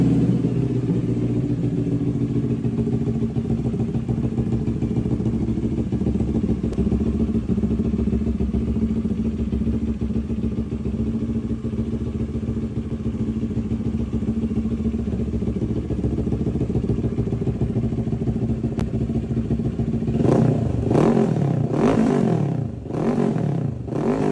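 A CLX700 Sport motorcycle fitted with an Akrapovic exhaust idles with a deep, steady burbling rumble for a long stretch, then snaps through several sharp, loud throttle blips near the end.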